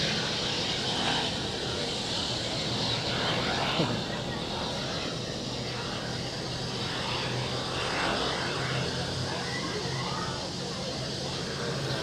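An Aegean Airlines airliner taxiing at Zurich Airport gives a steady, moderately loud engine roar that holds through the whole stretch, with faint voices talking in the background.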